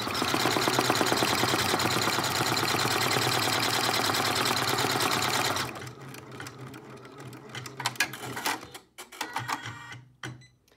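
A computerised embroidery machine stitches the placement outline for a felt applique chick-in-egg piece, running in a fast, loud, even rattle for about six seconds before stopping, followed by scattered clicks and knocks of handling.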